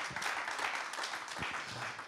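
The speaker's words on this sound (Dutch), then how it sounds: "Geef hem alvast een groot applaus" An audience applauding at a local entrepreneurs' award evening, the Starter of the Year 2020 ceremony: steady, dense clapping from a crowd that fills the whole stretch at an even level.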